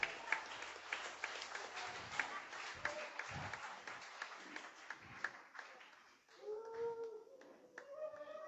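A church congregation claps and cheers at a Sunday service, with a quiet spread of scattered hand claps and voices, then a brief swell of cries near the end.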